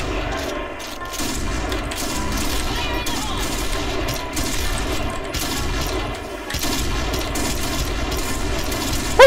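Dense, continuous gunfire in a Point Blank shooter match, sniper rifle shots among rapid bursts that run loud throughout with no clear pauses.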